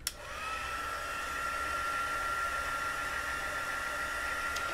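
A heat tool blows steadily to melt embossing powder on a handmade mermaid card, a continuous loud airy whir with a faint high whine, starting abruptly and holding even throughout.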